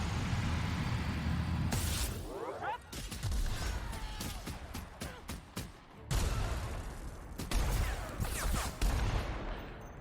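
Video game gunfire from The Outer Worlds, with bursts of rapid shots and sharp impacts cutting through a dense, loud battle mix, pausing briefly before another barrage; a voice talks over the fighting.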